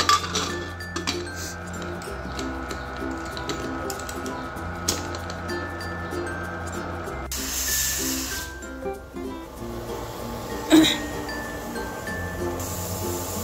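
A pressure cooker lid is closed and locked over a pot of chicken noodle soup, with sharp metallic clinks and scrapes close by, one abrupt clack partway through and another knock near the end.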